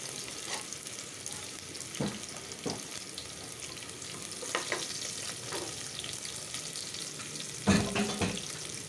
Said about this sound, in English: You can just fry it translucent.